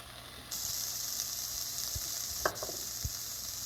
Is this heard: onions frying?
yes